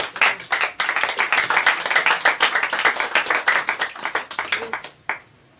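A church congregation bursts into loud, sustained applause to praise the Lord, many hands clapping densely together for about five seconds before it abruptly stops.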